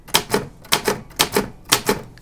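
Keys struck hard on a mechanical typewriter give sharp, loud, close clacks, about eight in quick pairs at an even pace, with no talking.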